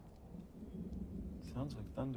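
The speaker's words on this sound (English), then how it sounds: "Sounds like thunder." Low, rolling thunder rumbles steadily throughout at moderate distance, growing a little louder toward the end, where a voice briefly speaks over it.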